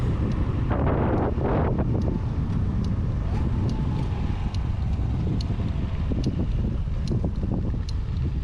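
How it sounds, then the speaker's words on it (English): Strong wind roars and buffets steadily against the microphone while a rider pushes a Honda Super Cub motorcycle along an open road in South Australia, the gusting rumble continuous and loud throughout. "I'm really battling that wind out there."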